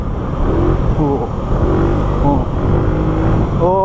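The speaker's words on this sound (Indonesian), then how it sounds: "Ini tuh kombinasi suara knalpotnya dan suara mesinnya itu ngegerung tuh" A Suzuki Skywave 125 scooter revs its engine close up through a stock, non-racing exhaust. Several rising and falling throttle blips sit over a steady, loud idle rumble, and no voices are heard.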